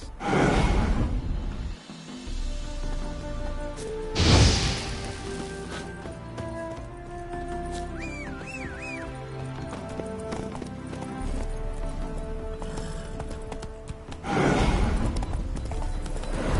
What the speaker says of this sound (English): Bloody fine mount.